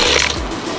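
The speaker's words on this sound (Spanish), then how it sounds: "Vamos a zafar este tornillo aquí." A star-head screwdriver loosens a screw on the rear roof of a Jeep, giving a short close ratcheting, grinding mechanical turn under a second long.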